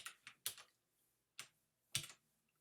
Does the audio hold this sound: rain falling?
no